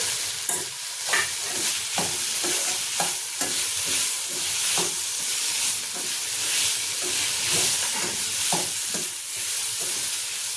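Grated coconut sizzles in a hot pan while a spatula stirs and scrapes it in quick, repeated strokes. The frying hiss runs steady and close throughout, with no voices.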